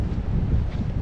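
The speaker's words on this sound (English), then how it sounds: "Wind's blowing." Steady wind gusting over coastal sand dunes, buffeting the microphone with a continuous low rumble and hiss, close and fairly loud, with no other sounds.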